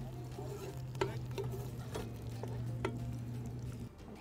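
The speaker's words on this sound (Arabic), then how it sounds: "وأحركه مع البصل" Chopped hot chili peppers stirred with onions in a pan, with a soft sizzle under low hum and a few light spoon taps against the pan, faint and close.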